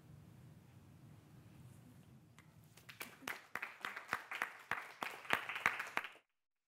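A phone plays a burst of applause: scattered sharp claps start faint then build into a steady, lively round of clapping that cuts off abruptly, with a low murmur of room noise underneath at the start.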